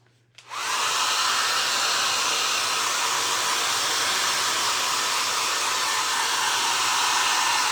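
A hair dryer drying a papier-mâché mouse switches on after a brief quiet moment and then blows a steady, loud, continuous airy whoosh with no letup.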